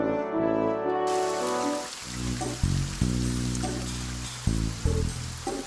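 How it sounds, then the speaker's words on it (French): Rain falls steadily in the video game Coromon as a constant hiss, over a background music track with sustained chords and a few soft low thuds. "Toujours la pluie, toujours les orages."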